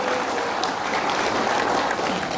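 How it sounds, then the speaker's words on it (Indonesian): Members of an audience clap together at an Islamic Maulid Nabi gathering, a dense, steady wash of applause that stays loud and even for a couple of seconds. "kepada seluruh ketua-ketua DPC se-Jabodetabek, tepuk tangan bakal kalian semua."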